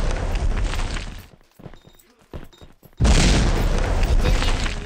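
Two loud grenade blasts in a video game, the first one's rumbling roar fading out after a second, then a quiet pause, then a second sudden booming explosion that sustains to the end.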